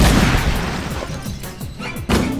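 Gunfire in the video game Jak 3 lands as a loud opening boom followed by a rapid run of sharp blasts and cracks, with another heavy hit near the end.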